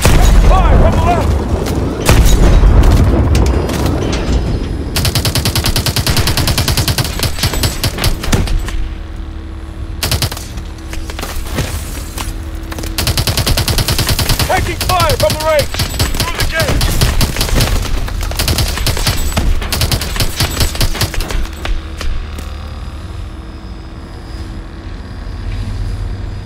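Gunfire in Call of Duty: Advanced Warfare, loud rapid machine-gun bursts and booming blasts packed densely across the whole stretch, with short pauses between volleys and a rumbling vehicle bed beneath, plus voices calling out over the combat.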